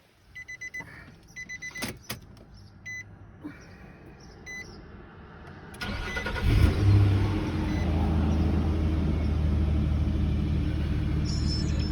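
A Nissan VQ40DE engine, freshly fitted with new valve cover gaskets and spark plugs, is started: first a few clicks and electronic chimes, then the starter catches and the engine settles into a loud, steady running rumble nearby.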